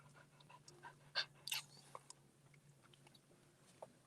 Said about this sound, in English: feeding the dogs.